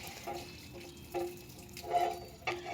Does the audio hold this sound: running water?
yes